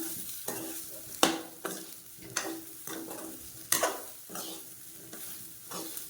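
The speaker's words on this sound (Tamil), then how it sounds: "இப்போ எல்லாத்தையும் நல்லா கிளறி விட்டுக்கலாம்" Kozhukattai masala with a little salt being stirred in a pan, a spoon scraping and knocking against the metal in irregular strokes with a few sharp clacks over a soft background sizzle, close and alone.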